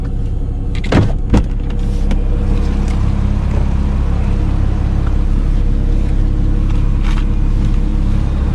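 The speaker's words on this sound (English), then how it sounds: "Let's just unlock the doors" The doors of a Porsche 987.1 Cayman unlocking, with two sharp close clicks early on over a steady low background rumble.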